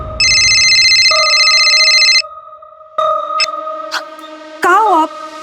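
A telephone rings with a steady electronic trill, starting loud and continuous, then giving way to brief tones and chirps in a tense crime drama scene.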